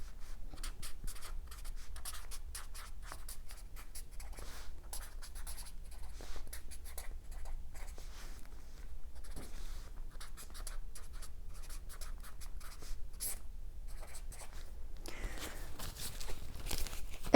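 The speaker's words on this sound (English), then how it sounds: "So I'm going to write it down right now." Pen scratching across paper up close, quiet and continuous, with irregular strokes and short pauses as thoughts are written down, no talking over it.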